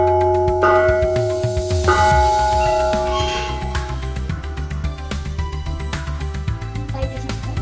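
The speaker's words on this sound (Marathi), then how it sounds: "किती मोठा घंटा" A large 500 kg temple bell struck twice in quick succession, each loud clang blooming into long, overlapping metallic ringing that slowly fades over several seconds amid faint background bustle.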